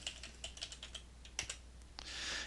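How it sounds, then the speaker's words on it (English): Quick, light keystrokes tap on a computer keyboard in a quiet room, a short irregular run of close clicks ending in a slightly firmer press. "I'm going to type divide from the keyboard"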